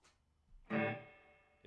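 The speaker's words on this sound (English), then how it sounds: "now I also have the the modulation effect with it" An electric guitar played clean with a modulation effect from a Line6 Pod HD500 driving a Tubemeister 36 amp with reverb: a single strummed chord rings out loudly and slowly decays, preceded by faint noise.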